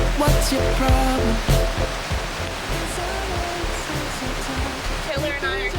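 Water rushing along the James River makes a loud, steady broadband roar with splashy texture throughout, while voices talk over it in the foreground.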